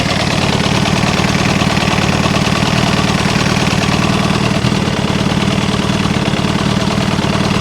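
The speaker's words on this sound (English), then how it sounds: "It sounds like it's idling right." A Kawasaki ZX7R motorcycle engine, warm after a rebuild, idles steadily and close by with a loud, even, throbbing rumble and a faint mechanical knocking texture that holds constant throughout.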